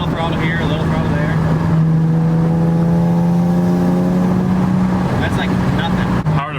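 An engine-swapped Nissan 370Z cruising on light throttle, heard from inside the car: a loud, steady engine drone that swells slightly, holds, then eases off near the end.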